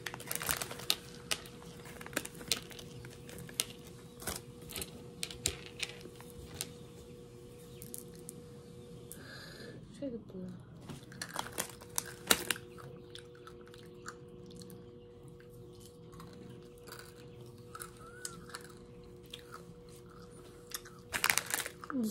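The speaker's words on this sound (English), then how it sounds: "This is like crunchy jelly beans." Close, crisp crunching and chewing of crunchy jelly-bean-like Pakistani candy, with irregular clicks and crackles, continuing for a long stretch with a brief quiet pause partway through.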